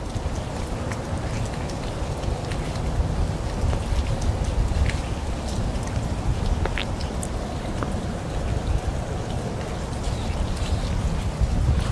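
Steady rain falls outdoors on a mild day in Michigan, a continuous close hiss and patter that holds at an even level throughout, with no one talking.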